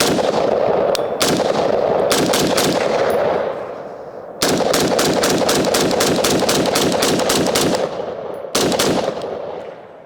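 An MK18 Mod 0 short-barreled carbine fires several loud, close bursts of rapid shots, with brief pauses between strings and a sharp echoing decay after each volley.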